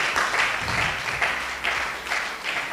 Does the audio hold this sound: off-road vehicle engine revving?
no